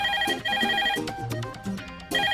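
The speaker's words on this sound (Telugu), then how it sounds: "ఫోన్ చూడు." A phone rings in a Telugu film scene, sounding as repeated bright electronic ring bursts separated by short gaps, fairly loud and close, with no talking over it.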